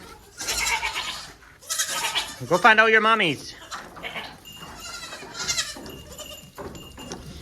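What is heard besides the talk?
baby goats bleating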